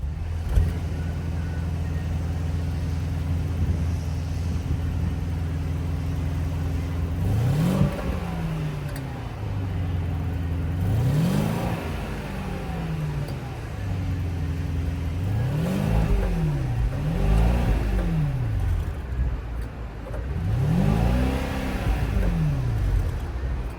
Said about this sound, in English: that was the sound of the 4-liter twin-turbo V8